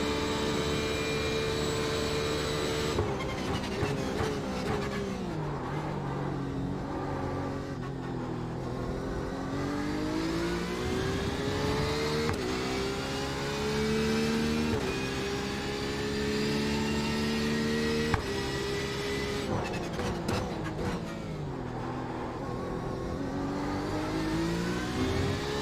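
A Porsche 911 RSR GTE race car in the iRacing sim lapping Spa-Francorchamps, its engine droning loudly and continuously, pitch climbing and dropping through gear shifts and corners with no talk over it.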